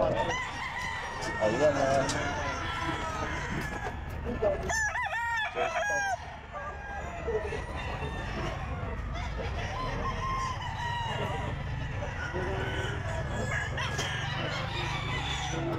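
A Sweater gamefowl rooster crows loudly and close at a Sunday pet market, its call rising out of crowd chatter and other fowl clucking, with people talking throughout.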